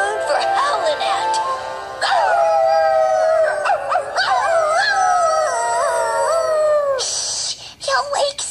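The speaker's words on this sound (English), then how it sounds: "There's nothing like a harvest moon for howling at!" Cartoon dogs howl at a harvest moon at night, several long wavering howls rising and falling together, loud and close, ending in a few short yips.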